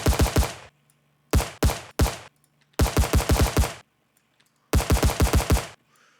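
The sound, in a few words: automatic weapon gunfire in an Unreal Engine 5 video game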